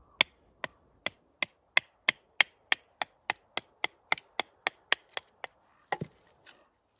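A Bark River Bushcraft Scout knife in Magnacut is batoned through wet firewood, producing about seventeen crisp, evenly spaced knocks at a quick steady rhythm, close by, then a final crack as the piece splits apart. No voices.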